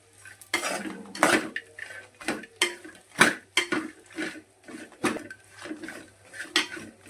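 Dry fish being lightly fried in a pan, heard as a run of repeated metallic clinks and scrapes of utensils against the cookware, close and fairly loud, with no talking.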